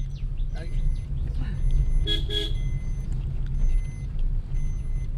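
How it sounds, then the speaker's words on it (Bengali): A car horn on a road near rural Andhra Pradesh gives a pair of quick close toots amid steady traffic rumble, with faint beeps from other vehicles and people talking over the road noise. "আমি ভাবছি পেছন দিকে কি এত হর্ন দিচ্ছে"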